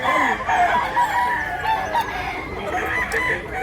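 Several roosters crow and hens cluck together in a busy, noisy chorus, loud and close, in Mantalungon, Cebu.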